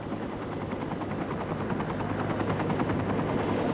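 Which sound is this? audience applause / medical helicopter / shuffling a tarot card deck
medical helicopter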